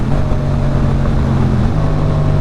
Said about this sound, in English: Holy engine braking.